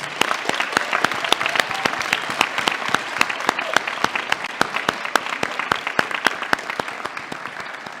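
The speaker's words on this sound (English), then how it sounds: "please give them a round of applause." Audience applause at an award ceremony for a graduating class, a steady, dense clapping that fills the room with sharp, close individual claps throughout, with no voices heard.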